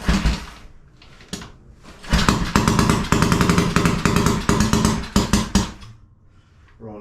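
Small engine cranking without choke, repeated rhythmic mechanical chugging bursts that surge and fade as it fails to catch, fairly close and alone.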